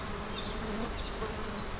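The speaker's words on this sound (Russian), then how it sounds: "А, мух-то налетела." Flies swarm around a camp meal of fish soup made from canned fish, out in a forest by a bog, with a continuous close buzzing drone and no talk.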